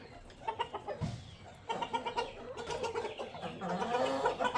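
Chickens clucking nearby in a pen, a busy run of repeated clucks and calls that grows denser and louder toward the end, with no talk over it.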